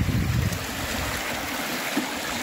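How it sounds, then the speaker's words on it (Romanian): Water flowing steadily in a garden, a continuous broadband rush and burble heard close and fairly loud, unbroken over the whole stretch with no talking. "să asculti apa ce frumos curge"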